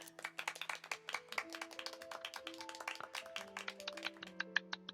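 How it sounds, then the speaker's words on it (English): Characters in Honkai Impact 3rd give a scattered round of crisp claps that keeps going throughout, over soft, sustained background music. "They're clapping."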